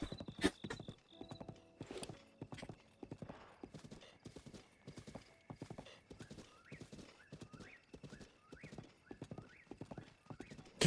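Rapid hoofbeats clip-clop in a steady galloping rhythm in The Legend of Zelda: Breath of the Wild, with a horse whinnying and brief synthetic game chirps layered over it.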